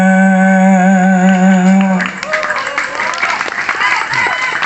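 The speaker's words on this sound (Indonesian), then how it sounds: "Nu keprok siga nu kapaksa" At a humorous Sundanese religious lecture, a held sung note ends and an audience breaks into loose, scattered clapping that carries on unevenly at a fairly loud level.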